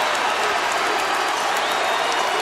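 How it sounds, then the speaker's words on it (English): A basketball arena crowd roars and applauds as James Harden breaks Calvin Murphy's record, a dense, continuous wash of cheering from the stands throughout. "Listen to this crowd as they just now figure out that Calvin Murphy's record has finally fallen"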